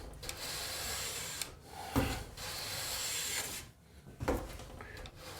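A jointer plane rasps along a wooden board as it takes a shaving, giving long, steady, close scraping strokes with a brief break between passes and no talking.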